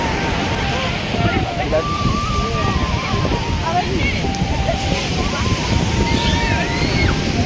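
Morning sea surf rushing onto a beach, a continuous loud roar of breaking waves with wind buffeting, while people talk over it.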